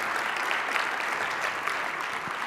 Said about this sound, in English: I would appreciate a quick round of applause for the winners